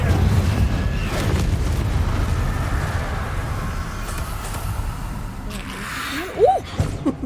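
Incendio fire spell cast in Hogwarts Legacy, a low rumbling whoosh of flame sustained across the moment, with a brief sharper burst near the end and game sounds around it.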